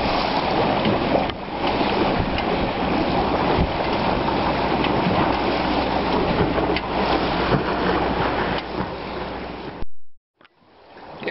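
A sailboat glides across calm open sea, with a steady, close rush of water and wind that runs on without talk before cutting off abruptly near the end.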